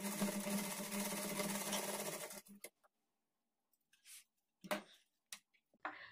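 Sewing machine stitching fabric for a blouse latkan tassel, a dense continuous whirring run for about two and a half seconds, then stopping, followed by a few scattered soft clicks and handling taps.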